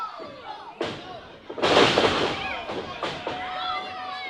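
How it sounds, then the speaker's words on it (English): Wrestlers slam down onto the mat in a video game match, a heavy thud burst with crowd noise, followed by lighter impacts and steady arena ambience behind commentary. "Slamming Crucifix back down"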